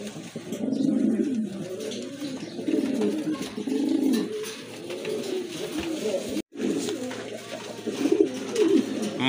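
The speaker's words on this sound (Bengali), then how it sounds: "এই যে দেখেন কতটা তেজি কবুতর, অ্যাক্টিভ আর ফ্রেশ একদম" Lively, healthy pigeons kept for sale coo continuously in soft, throaty rolling phrases close by, with a brief gap in the middle.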